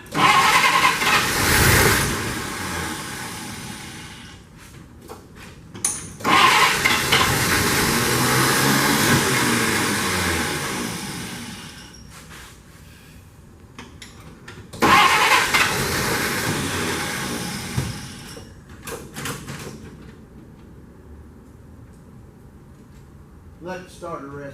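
A 1948 Pontiac Torpedo sedan, pulled from a barn after 20 years, cranks on its starter in three long, loud grinding bursts separated by pauses, with brief talk between attempts.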